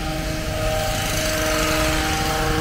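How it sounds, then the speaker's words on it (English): Steady motorized drone of a power tool trimming bushes along Boylston Street in Boston, continuous and moderately loud with a constant whine, heard from a short distance outdoors. "Looks like they're trimming the bushes right now."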